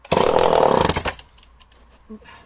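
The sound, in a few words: vintage chainsaw engine running, Remington SL11 or Homelite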